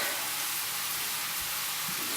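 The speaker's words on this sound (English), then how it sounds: "When you fry off the onions, you can also get started warming your pans for browning the meat." Onions fry in a hot pan with a constant, bright hiss of sizzling and no voices.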